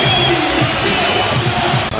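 At a Knicks basketball game, a capacity arena crowd roars loudly and steadily, with cheering that fills the whole moment and faint bouncing sounds beneath the din.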